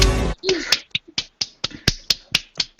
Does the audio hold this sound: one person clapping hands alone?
yes